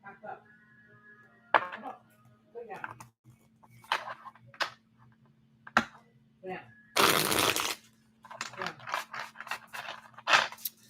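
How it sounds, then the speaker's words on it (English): A tarot card deck is shuffled several times, soft riffling and shuffling bursts with one louder riffle in the middle, under quiet background sounds. "I will say this deck does shuffle really well."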